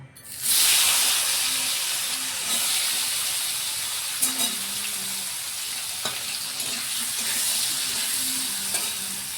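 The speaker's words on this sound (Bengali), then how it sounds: "পেঁয়াজ, টমেটো, লঙ্কা ঠিক লাল করে ভাজা হয়ে গেল" Loud, steady sizzling of onion, tomato and green chili frying in hot oil, with occasional stirring clinks and scrapes; no one speaks.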